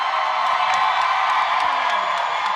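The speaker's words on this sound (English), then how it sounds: "Clap hard for the team that you won." An audience at a conference general session cheers and whoops loudly for a team, a steady dense crowd roar with scattered shouts and clapping, sustained without a break.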